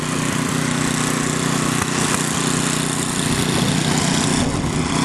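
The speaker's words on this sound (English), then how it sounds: "They saved me hours of work with their big snow blowers." A big snow blower engine runs steadily during a blizzard, giving a loud, continuous droning roar with a constant hum and no pauses.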